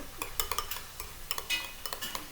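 Mojos-style potato mixture stirred in a bowl or pan, a quick series of close scraping and clinking spoon strokes, quiet and irregular, with no voices.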